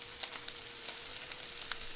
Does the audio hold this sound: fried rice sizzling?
yes